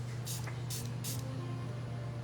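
Dalba truffle face mist sprayed in three short, soft hissing bursts, close by, over a steady low room hum.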